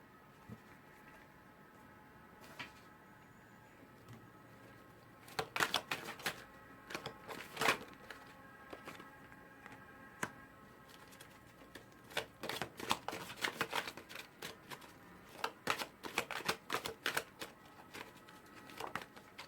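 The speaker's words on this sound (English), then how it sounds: "I'm going to pull you a couple of oracle cards." Oracle cards being shuffled by hand, with bursts of crisp riffling and flicking that start after a quiet stretch and return in quick runs toward the end, close and fairly loud, no talking.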